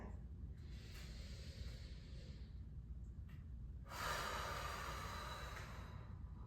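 Breathing during a low-impact Pilates exercise: a soft inhale followed by a louder, longer exhale, both close and breathy, with no talking.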